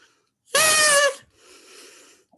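A short burst of high, whistling tone blown through a very short cut drinking straw lasts about half a second and is followed by softer breathy blowing.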